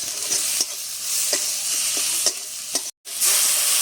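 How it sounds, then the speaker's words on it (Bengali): Spice paste with tomato and ground coriander being stirred and fried in a pan: a bright sizzle under repeated close scrapes of the spoon, with a brief cut of silence near the end and no talking. "মশলাটা টমেটোর সাথে ভালোভাবে মিশিয়ে নিচ্ছি"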